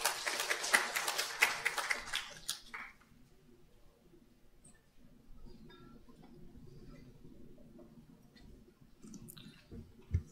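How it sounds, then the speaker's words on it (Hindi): Applause from a seated audience at a one-day national workshop in Maharashtra greeting a speaker coming to the stage, a dense burst of clapping for about three seconds that quickly fades to quiet room murmur. "जोरदार तालियों से स्वागत कीजिए।"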